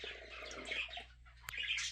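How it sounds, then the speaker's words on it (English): Birds chirp and twitter indoors when the lights come on, a busy run of bright overlapping calls at moderate level with a dog barking faintly nearby. "the birds are chirping because lights are on."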